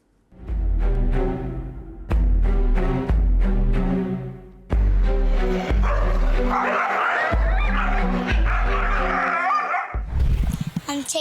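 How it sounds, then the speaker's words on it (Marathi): Stray dogs in a neighbourhood barking, several loud, close bursts of barks and yips with short pauses between, ending in a noisier tangle of barking. "भटक्या कुत्र्यांनी कसा धुमाकूळ घातला आहे बघूया"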